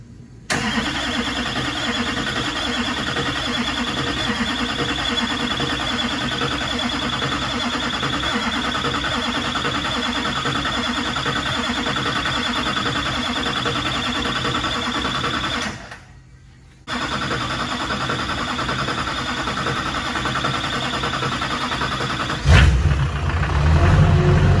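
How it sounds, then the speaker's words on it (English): A Shorty Duramax truck fires up for the first time after a full frame-off restoration, running with a steady close buzzing drone attributed to the power steering, briefly cutting out before resuming. "What was that buzzy noise? Sounds like power steering."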